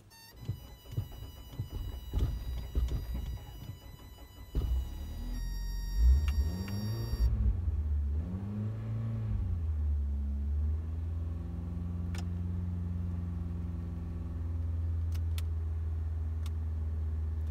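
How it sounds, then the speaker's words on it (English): A Toyota Corolla engine starts and runs after new parts are fitted: a cranking rev rises and settles into a steady low idle hum, with ticking and clicks early on. "So the car is on, as y'all can hear it."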